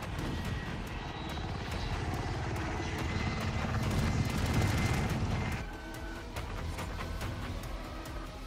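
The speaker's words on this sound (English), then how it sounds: "The chopper is shooting that enemy." A film-scene helicopter flies overhead with a loud, continuous rotor roar and engine drone, mixed with bursts of gunfire-like booms; the noise stays heavy and dense before easing slightly toward the end.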